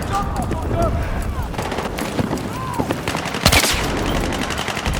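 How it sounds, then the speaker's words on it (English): Gunfire in the video game Battlefield 6, with repeated rapid bursts and single shots coming from a distance, a louder blast partway through and voices underneath. "I can still hear the shooting over there"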